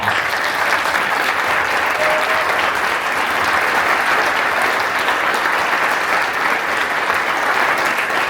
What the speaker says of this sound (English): And can we give this group a round of applause?